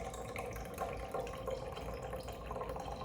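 Rice vinegar poured into a measuring cup, a steady low liquid stream running for a few seconds at close range with no talking.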